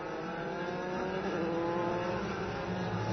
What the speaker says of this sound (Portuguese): Passou também o carro do Arthur Fortunato.